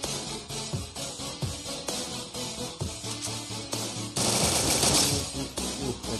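Rapid MP40 submachine gun fire in the mobile shooter game Free Fire, loud and continuous in bursts, with a denser stretch of overlapping shots near the end.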